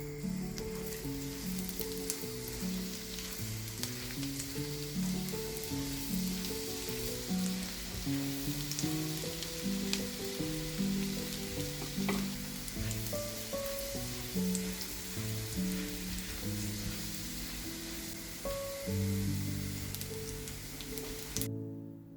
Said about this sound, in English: Sauté the garlic.